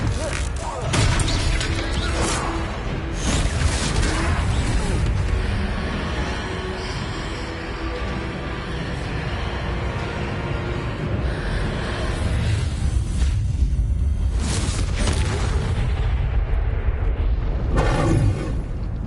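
Confringo spell blasts striking a troll in the Hogwarts Legacy video game, a loud, continuous barrage of booming impacts and crashing debris with sharp bursts recurring throughout.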